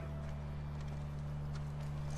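Horse hooves clip-clop at a steady walking pace, faint and close, under a loud, constant low hum.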